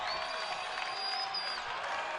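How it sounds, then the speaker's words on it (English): A basketball arena crowd roars with cheering and applause after a big rebound at a college game, a dense, steady wall of noise with some whistles, sustained throughout. "The crowd just going wild for Jamario Jones"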